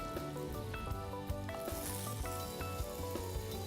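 Pancakes and apple slices frying in a little butter in a pan give a steady close sizzle and crackle, with small pops and faint stirring scrapes, and no talking.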